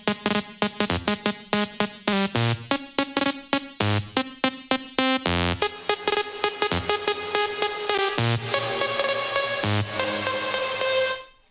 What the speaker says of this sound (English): this plugin called texture, which is simply just adding some noise following like an envelope